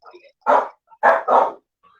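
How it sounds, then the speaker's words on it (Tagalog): A dog barking indoors during an online meeting: faint yips at first, then three loud, close barks, the last two in quick succession. "parang ang ingay ng aso ko"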